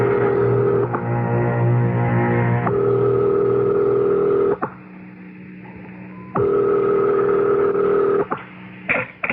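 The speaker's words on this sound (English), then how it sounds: "Dial. I'll call his private number." A telephone dialed in an old-time radio mystery drama, steady tone segments broken by sharp clicks and pauses, loud and close with no talking.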